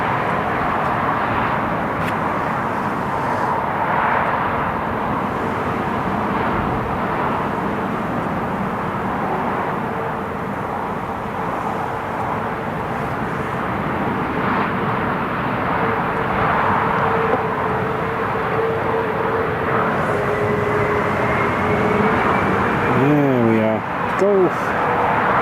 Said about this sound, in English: British Airways A320 Neo.